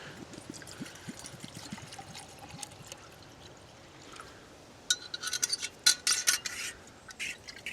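Water poured from a pot or canteen outdoors on a blustery day, a faint trickling at first, then brighter splashy bursts of filling near the end.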